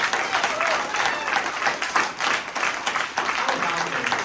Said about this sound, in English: Can we get another round of applause for our tremendous